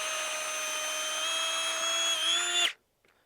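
A power drill with a standard bit whines steadily at high speed for about two and a half seconds, pitch rising slightly under load before cutting off abruptly, followed by a faint knock.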